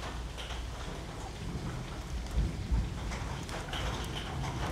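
Steady heavy rain pouring down close by, with low rumbles of thunder swelling briefly near the middle of the stretch.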